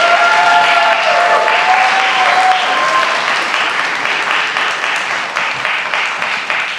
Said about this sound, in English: Another round of applause for all of our student award winners tonight.